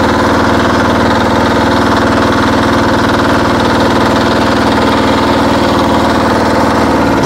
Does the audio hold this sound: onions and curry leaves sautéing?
no